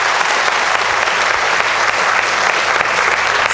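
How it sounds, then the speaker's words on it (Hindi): Loud, dense audience applause fills the whole stretch, a steady roar of many clapping hands with no pause or voice over it. "एक बार जोरदार तालियां हो जाए।"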